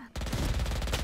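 Rapid automatic gunfire in Valorant bursts in abruptly and keeps up a fast, steady rattle of closely spaced shots, loud and close, with no voices over it.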